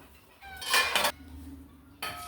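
Cooked chickpeas are spooned from a pressure cooker into a bowl, with a couple of close metallic clinks of a utensil against the pots in an otherwise quiet kitchen.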